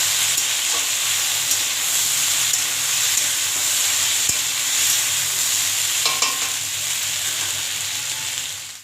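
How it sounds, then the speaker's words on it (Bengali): Sliced onions and green chillies frying in a pan, a loud steady sizzle with stirring scrapes running throughout, alone without talk, fading at the very end. "পেঁয়াজটা দিয়ে দিচ্ছি আর কাঁচা লঙ্কাগুলো দিয়ে দিলাম।"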